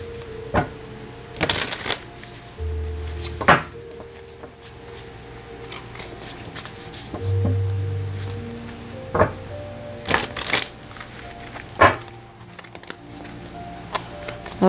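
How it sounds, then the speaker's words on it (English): A Muse Tarot deck is shuffled by hand, producing scattered bursts of riffling card flutters and soft taps and knocks, close and intermittent with quiet gaps between. "All right, so let's have a little shuffle."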